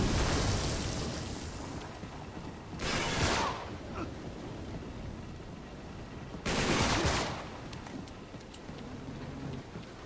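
Gunfire in Uncharted 3: Drake's Deception, dense crackling fusillade rattling throughout with two louder bursts of rapid shots, heard over constant game ambience.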